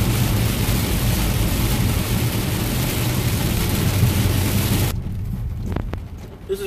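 Heavy rain pounds a car on a road during a storm, a loud dense wash of water and road noise that drops away sharply near the end, leaving quieter cabin sounds and a few faint knocks.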